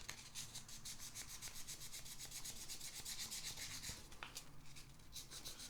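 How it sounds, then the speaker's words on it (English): Hand sanding with 1200 grit sandpaper touches up spots on a guitar body during a tele-style build: quick, rhythmic back-and-forth rubbing strokes, close and soft, with no voices. "just do a little hand sanding at those spots."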